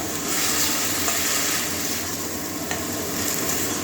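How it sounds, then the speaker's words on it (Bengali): Tender spinach sautéing in a pan for a moong dal dish with papaya, giving a dense continuous sizzle with soft stirring movements, close and steady, no talking. "কষিয়ে নেবো পালং শাকটা"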